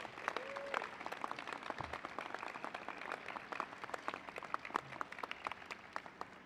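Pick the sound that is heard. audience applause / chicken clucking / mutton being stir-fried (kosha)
audience applause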